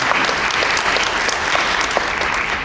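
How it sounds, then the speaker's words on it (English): Sustained audience applause from a crowd at a church parish annual meeting, dense and steady clapping filling the room for the whole stretch without a break. "So can we please give the Associate Vestry a big round of applause for the breakfast this morning?"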